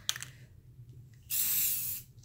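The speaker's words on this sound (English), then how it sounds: "I'm going to spray paint them" Aerosol spray paint hisses in one steady burst of under a second onto window pieces laid on an old board, after a few faint handling clicks and low room hum.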